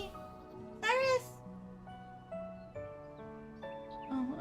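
One bright, drawn-out meow from a cat in The Legend of Heroes: Trails Through Daybreak rises above gentle game music, which carries on with soft melodic notes afterward.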